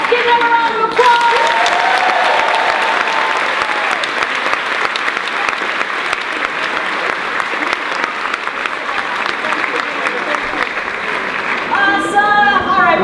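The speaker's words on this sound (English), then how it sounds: "let's give them a round of applause" Applause for actors from an audience at a staff kickoff gathering, sustained dense clapping that keeps going at a steady level, with voices heard briefly at the start and near the end.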